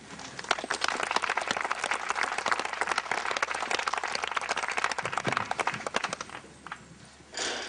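An audience at the 2003 Western Oklahoma Cowboy Poetry Gathering claps warmly after a cowboy poem, a dense, sustained round of applause that tapers off near the end.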